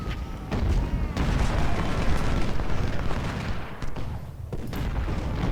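Dense Civil War artillery fire in the Ultimate General video game rolls on without pause, with deep booms and distant volleys layered into a continuous roar.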